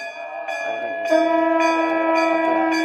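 A Hindu temple bell rings out several times during Navratri worship, with long, overlapping metallic tones that sustain and layer, fairly close and steady.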